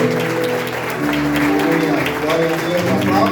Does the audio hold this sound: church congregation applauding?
yes